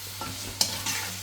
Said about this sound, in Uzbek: Endi sabzini ham qovurib olyapmiz